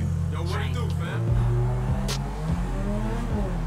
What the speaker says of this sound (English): The sound could be a lot cooler for the engine